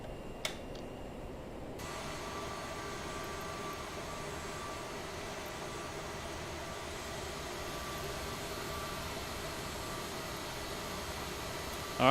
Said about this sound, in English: Engine starting up nicely.